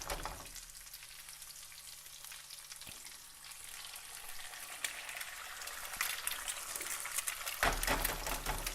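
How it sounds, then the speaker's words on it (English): Fresh eggs cracked into an oiled pan alongside Italian sausage and chilli peppers, frying with a continuous crackling sizzle that grows louder and busier toward the end. "And then you just crack open a couple of eggs into the pan."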